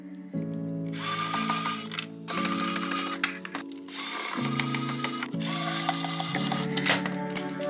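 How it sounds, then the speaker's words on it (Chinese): An electric screwdriver backs fixing screws out of the plastic housing of an ultrasonic cutter, whirring loudly and close in four separate bursts with short pauses between. "我们拿出电动起子，"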